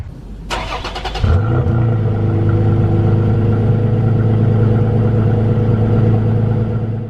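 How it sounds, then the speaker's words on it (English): A starter cranks briefly on a cold 2021 Toyota Tacoma pickup, then the engine catches and settles into a loud, steady idle with a low, even hum that continues to the end. "Let's get a cold start."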